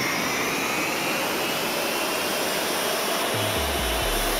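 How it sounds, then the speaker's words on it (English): Roar of a simulated JT3D jet engine at full throttle during takeoff in a Minecraft flight simulator, a loud steady broadband whine and rush that holds throughout, with a low rumble building near the end. "Doing some nice JT3D engine sounds."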